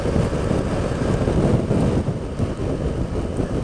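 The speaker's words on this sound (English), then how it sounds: "So it's windy and it's raining" Strong wind buffets the microphone in a continuous low roar, with gusts rising and falling, during rain; no talking.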